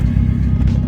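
Low, steady engine rumble from inside a moving old Nissan Pulsar GTI-R with a newly built engine, deep and continuous with a slight rise in pitch, no voices.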